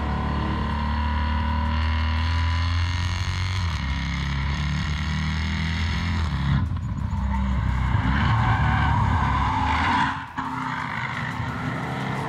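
A Jaguar F-Type SVR with a supercharged 5-litre engine drifts with traction and stability control off, loud engine roar and long tire squeals rising and falling, the engine note dipping briefly near the end.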